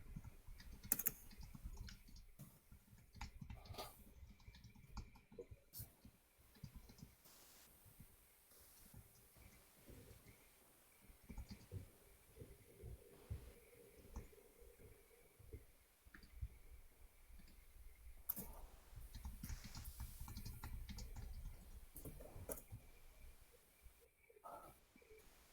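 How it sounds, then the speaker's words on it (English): Someone typing a message on a computer keyboard during a game development session, irregular bursts of quiet key clicks over low background noise, with faint handling sounds. "I'm just typing a message to somebody real quick"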